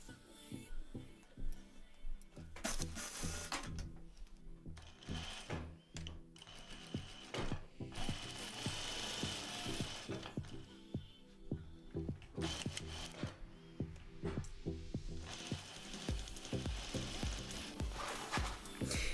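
A sewing machine stitches the corners of a lined fabric bag, its motor running in steady bursts with a quick ticking needle rhythm, close but moderately quiet, with brief pauses between runs.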